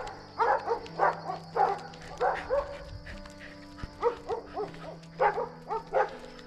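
Neighbor's dog roaming free in the Colombian countryside, giving repeated barks in quick groups, fairly close and loud, with a few quieter sounds between the bursts.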